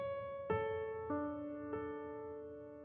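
Soft piano notes are struck one at a time, three clear tones about half a second apart, each ringing and decaying quietly and close with no talking.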